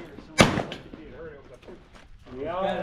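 A single loud, close shotgun blast cracks out at a cowboy action shooting stage, followed by a short echo, with people talking nearby before and after.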